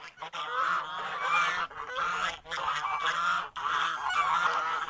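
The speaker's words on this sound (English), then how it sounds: "I have some white guineas, a pair of white guineas in here." White guinea fowl call in a homestead poultry run. They give repeated loud, harsh, honking cries in close bursts, broken by short gaps.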